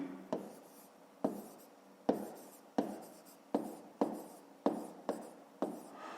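Pen strokes as an equation is written out by hand for a fifth-grade math word problem: about eight sharp, scratchy strokes at a steady rhythm, each fading quickly, close and fairly quiet, with no talking.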